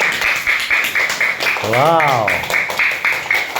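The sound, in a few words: class clapping for a student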